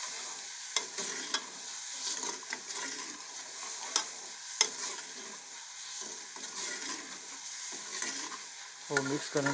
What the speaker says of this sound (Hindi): वो मिक्स करेंगे अच्छे से यहाँ पे।